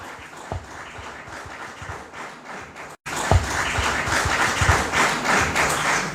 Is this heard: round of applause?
yes